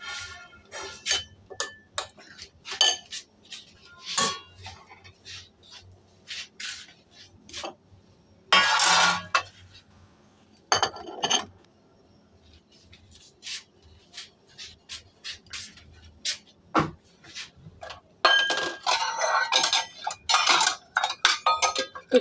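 Steel thali plate and kitchen dishes handled in a home kitchen, with scattered sharp metallic clinks and ticks spread across the clip, some close and bright, plus a few longer rattling bursts of clattering utensils.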